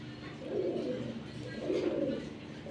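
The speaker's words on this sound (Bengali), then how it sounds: "কবুতরগুলো দেখাই।" Domestic pigeons of the cheetah-coloured military breed cooing nearby, two soft, throaty rolling coos in succession over a low background hum.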